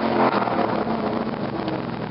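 A 1997 Ford Mustang Cobra with SLP Loudmouth mufflers sends out a loud, steady exhaust rumble, heard close and continuous with some wind buffeting.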